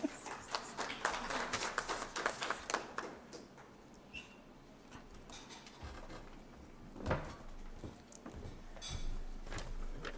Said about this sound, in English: Let us give once again a round of applause